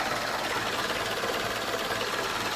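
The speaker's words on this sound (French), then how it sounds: "Là voilà qui tourne au ralenti, moteur froid." A small, cold engine, the smallest in a 201, idles steadily. It gives a continuous, even mechanical whirr with a fine rapid ticking, close and constant throughout.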